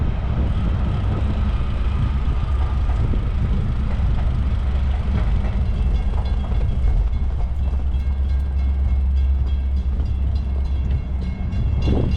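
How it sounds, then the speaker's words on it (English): Steady rumbling roar of a metro train in motion, with rattling and rail clatter holding at a constant, fairly loud level throughout. "First time ever catching the train, the Metro."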